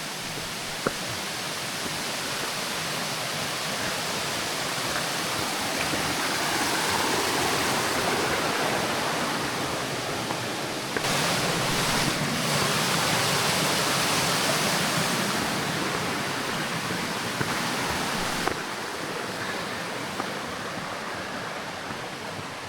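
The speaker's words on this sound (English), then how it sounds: "This is the waterfall." A waterfall on the Gahuti Trail in Fort Mountain State Park rushes with a dense, steady roar that fills the whole stretch, loud and close with no voices.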